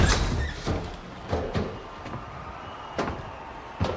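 A door swings open with a few sharp clunks and knocks spread across the moment, fairly close and clear, with no talk over it.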